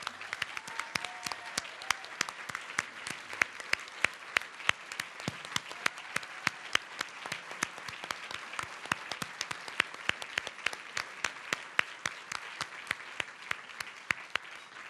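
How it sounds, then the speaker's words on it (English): An audience at a literary benefit event applauds authors as they stand, giving a steady, dense run of clapping that holds at even strength for the whole stretch, with no voices over it. "if you will all applaud them"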